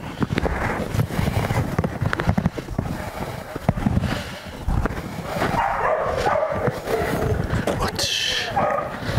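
A Malinois barks in short repeated bursts outdoors on a farm, mixed with wind buffeting the microphone and someone talking over the noise.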